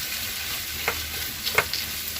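Tomatoes frying with onions for kushka rice give a steady, close sizzle, with two short scraping stirs of a spoon in the pan; no one speaks.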